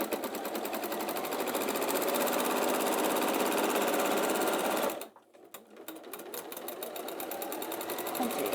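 A sewing machine stitches along the seam allowance of a bag from a kit, running as a loud, steady mechanical whir. It stops briefly midway, then starts again with a quicker stitching rhythm.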